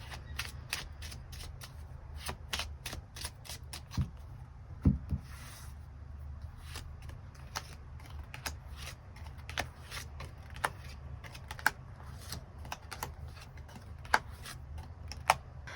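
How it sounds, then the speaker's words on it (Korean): Tarot cards being drawn and laid down during a reading, giving a series of soft, sharp card flicks and taps in an irregular rhythm, close and quiet, with no talking. "그럼 9번 분들 추가 카드로 일별로 월요일부터 일요일까지 어떤 하루를 보내게 될지 추가 카드 뽑아보도록 하겠습니다."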